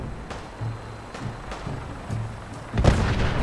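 A Vertibird being shot down in Fallout 4 Nuka World: scattered dull thumps and shots, then a sudden loud, deep explosion that rumbles on to the end.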